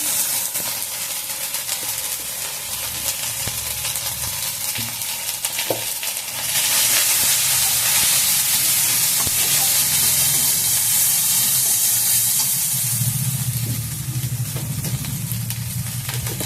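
Sliced ridge gourd fries in a pan with poppy seed and mustard paste, giving a loud, continuous close sizzle and hiss that swells partway through and keeps going with no talking.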